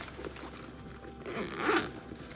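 A zipper runs along a zippered side compartment of a designer leather purse, a short, close, quiet rasp that rises to a brief louder pull near the end.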